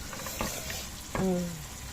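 White sauce with chicken gizzards comes to a simmer in a pan, making soft, continuous bubbling with one brief squealing tone, heard close.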